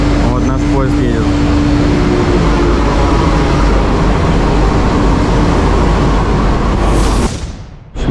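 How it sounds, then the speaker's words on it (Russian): A metro train pulls into a station in India, its loud, steady rumble and hum filling the platform for several seconds before fading at the end, with brief talk near the start. "Вот наш поезд едет."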